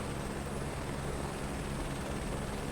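A steady, broadband helicopter rotor and engine roar from Microsoft Flight Simulator 2024 during a search-and-rescue flight, constant and loud with no talk.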